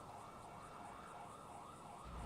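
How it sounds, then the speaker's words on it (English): Wailing police siren from a video game roleplay server, steady and fairly loud, its pitch sweeping up and down in a regular cycle over a constant background hum with no talk. "Fucking sirens."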